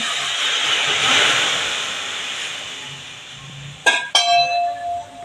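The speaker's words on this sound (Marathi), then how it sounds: "त्याच्यावर मी उकळतं पाणी ओतणार आहे" Boiling water is poured over roasted vermicelli for upma, producing a steady loud hiss and sizzle that slowly fades, followed near the end by a couple of sharp clinks of a utensil.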